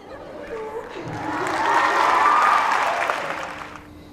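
A large crowd of young people cheers and applauds at a project launch event, the clapping and shouting swelling to a loud peak and then fading toward the end.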